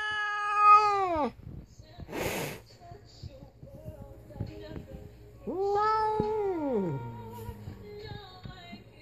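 A cat lets out two long, drawn-out meowing yowls, the second rising and then sliding down, close and loud, with a sharp hiss or snort between them and a person speaking quietly in the background.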